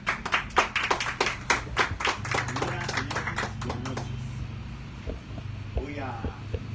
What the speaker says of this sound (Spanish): quiero recibir con fuertes aplausos al maestro Frederick Sotomayor